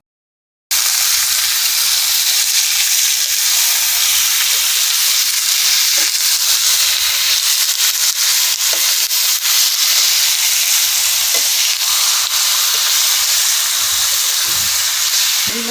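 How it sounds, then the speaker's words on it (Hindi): Chicken and onions fry on a high flame, a loud, continuous hiss of sizzling that starts abruptly and holds steady, with occasional faint scrapes close by. "अब इसे 5 मिनट तक तेज़ आंच पर भूनिए।"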